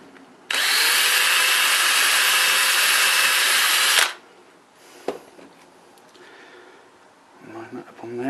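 A power drill fitted with a 1.5mm bit bores a pilot hole, a loud steady high whine for about three and a half seconds, followed by quiet handling clicks and faint knocks.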